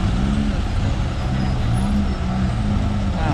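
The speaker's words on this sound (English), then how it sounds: "There comes an old taxi, a Lada" An old Lada taxi passes on a busy Kyiv street, a loud, close, low engine rumble amid steady traffic noise.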